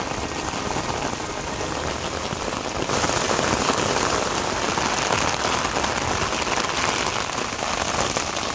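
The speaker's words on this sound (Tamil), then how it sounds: "திருப்பூர், ராணிப்பேட்டை சுற்றுவட்டார பகுதிகளில் மதிய வேளையில் மழை." Steady afternoon rain in the Tiruppur and Ranipet area, a dense, even hiss of drops on surfaces that grows a little heavier partway through and keeps going without a break.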